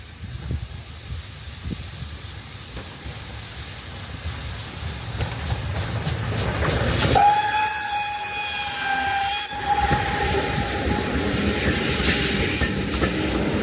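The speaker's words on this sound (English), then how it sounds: "Can't beat a steam train," A steam train rumbles and hisses past behind trees, its long steady whistle sounding clearly for about two seconds midway, with continuous rolling wheel and chuffing noise throughout.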